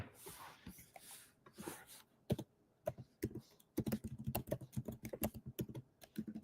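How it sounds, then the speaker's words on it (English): Typing on a computer keyboard, starting with a few scattered keystrokes and then settling into a quick, steady run of close, crisp clicks; faint talk and breathing are heard early on. "Let me type it in."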